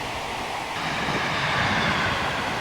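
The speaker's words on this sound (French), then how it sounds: "On voit les trains passer." A passing train in a simulator game, with a BB26000 locomotive hauling an international night train beside a small river: a steady broadband rolling rumble with hiss that swells slightly partway through, no talk.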